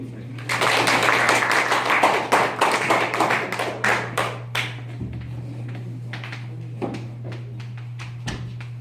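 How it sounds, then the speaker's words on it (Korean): Audience members at a Korean lecture on the Fourth Industrial Revolution and IoT clap loudly for a few seconds, then the clapping thins to scattered claps over a steady low hum. "박수"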